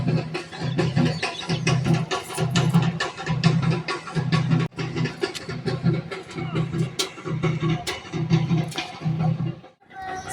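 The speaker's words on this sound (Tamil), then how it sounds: "இப்போ அந்த மேலத்தாள சத்தம் கேட்குதான்னு பாருங்கள்." A temple deity procession in Valparai beats out melam thalam, steady pulsing drum strokes in even repeated bursts with dense percussive clatter and crowd noise, loud and continuous.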